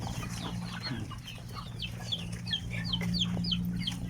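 Free-roaming backyard chickens clucking on a village farm in the evening, a string of short repeated calls over a steady low hum, near and continuous.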